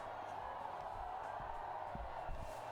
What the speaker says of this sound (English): Mexican wave going around the crowd again